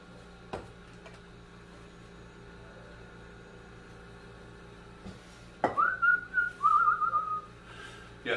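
A short whistled tune rises while buffalo chicken dip is mixed, after a stretch of quiet kitchen noise with a few soft clicks and knocks, fairly close and clear.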